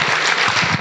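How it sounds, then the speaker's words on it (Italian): Audience applause in an Italian lecture hall during a cultural talk, a dense, steady wash of clapping filling the whole short moment at even loudness. "Potete applaudire voi per me"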